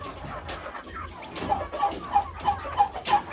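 Newly hatched young chicks peep close by in a quick, steady series of high chirps, with soft background rustle and farmyard noise.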